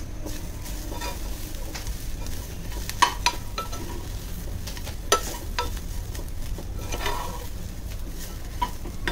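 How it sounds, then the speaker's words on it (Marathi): Masala paste with dry coconut being roasted and stirred in a pan for a Malvani Kadaknath chicken curry: a steady close sizzle with scraping spoon strokes and a few sharp clinks against the pan, no talking. "हे सगळं वाटण आहे ना चांगलं लाल रंग येईपर्यंत आपल्याला परतून घ्यायचं आहे"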